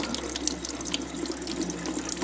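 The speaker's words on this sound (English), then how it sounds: "And then you run the cold water on it." Cold water pours steadily from a tap over a scored glass wine bottle, a continuous hissing splash with no talking.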